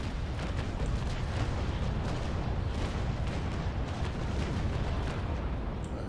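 Warship cannon fire in the age-of-sail naval combat game Naval Action rolls as a continuous broadside barrage, dense overlapping booms and rumbling blasts filling the whole stretch with no gaps.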